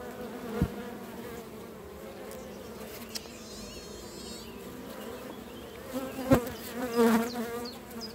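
Honeybees and drones in an open hive, a steady close drone of many buzzing insects with a few louder individual passes and brief knocks, no talking.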